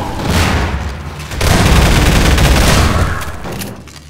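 Rocket launcher fire and explosions in Half-Life 2 Deathmatch burst out loud and close, a sustained roar of blasts and gunfire with two peaks across a few seconds of a multiplayer match.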